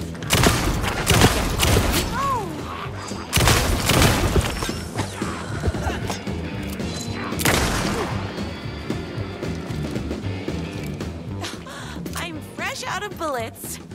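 Gunfire in the survival horror game Alan Wake 2, scattered loud shots and crashing impacts mixed with combat noise, with someone talking over parts of it.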